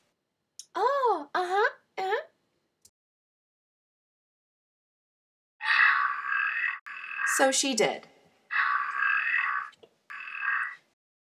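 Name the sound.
frogs croaking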